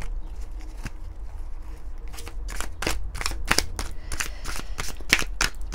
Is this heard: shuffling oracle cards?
yes